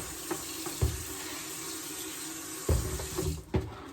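Hot water from a tap trickles into a basin while stained laundry is soaked, a faint steady flow broken by a few sharp clunks and splashes from handling containers.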